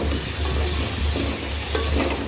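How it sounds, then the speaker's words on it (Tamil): Tomatoes and green chillies sauté in a pan with a loud, steady sizzle, joined by stirring scrapes throughout. "தக்காளியும் பச்சை மிளகாய் போட்டுக்கலாம் போட்டு நல்லா வதக்கிட்டு"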